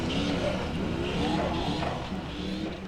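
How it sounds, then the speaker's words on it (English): A Formula Offroad competition car's engine works hard up a steep climb, loud and close, its roar rising and dipping as the throttle is blipped on and off without pause. "Listen to the engine just work here. On and off the throttle, very responsive, and Andri Már making it all the way."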